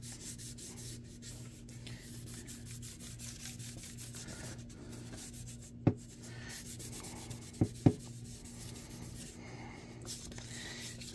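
Rhythmic rubbing and scraping from a sanding scuff-down of a 1/350 refit Enterprise model kit, close and steady, with a few sharp knocks and a low hum underneath.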